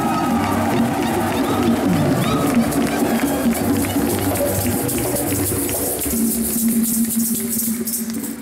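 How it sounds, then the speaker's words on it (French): Congregation applauding inside a basilica during a memorial Mass, a steady, dense wash of clapping that fills the whole stretch, with a murmur of voices and shuffling mixed underneath. "Nous pouvons nous applaudir les uns les autres."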